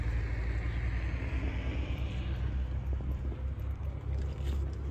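A cheap $500 golf cart rolls along, its steady low rumble and road noise holding evenly from start to finish with no talking.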